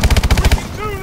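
Rapid gunfire bursts in Call of Duty: Advanced Warfare, eight loud evenly spaced blasts in quick succession, then a brief electronic tone trailing off.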